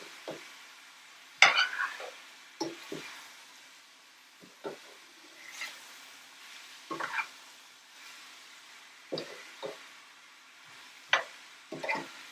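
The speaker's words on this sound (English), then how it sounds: "I am going to go ahead and mix this up" Chicken stir-fry seasoned with salt and red pepper flakes being stirred in a pan, a quiet soft sizzle under intermittent scraping and knocking strokes of a utensil, irregularly spaced and close, with no talk.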